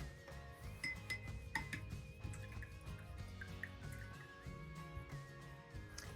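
Paintbrush rinsed in a water container, with soft clinks and light drips repeating through steady low background noise.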